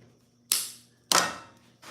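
Cutters nip lengths of TIG welding wire in half, three sharp, close metallic snaps spaced about half a second apart, each with a brief ringing tail, no talking.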